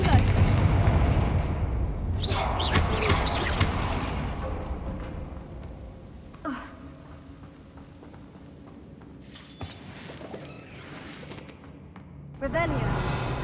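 Confringo fire spell cast in the Hogwarts Legacy video game in the Feldcroft region: loud booming blasts and crackling bursts recurring across the stretch, with a rumbling low bed and a final sharp burst near the end, amid game sounds and a voice.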